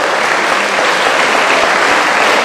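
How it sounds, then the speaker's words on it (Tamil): An audience at a drug-free awareness event in Puducherry claps together, a dense, steady wash of applause that stays loud and even throughout. "உங்க அனைவருக்கும் நீங்களே ஒரு கைத்தட்டல் கொடுத்துக்கணும்ன்றது என்னுடைய வேண்டுகோளா இருக்கு"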